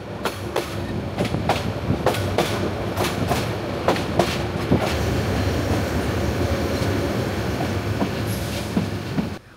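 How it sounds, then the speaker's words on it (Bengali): A passenger train from Cox's Bazar to Dhaka picks up speed after crossing a bridge, heading into Chattogram. Wheels clack rhythmically over rail joints under a continuous rolling rumble, heard from inside the carriage with no voices. "সেতু পার হয়ে আবারও ছুটতে শুরু করেছে ট্রেন।"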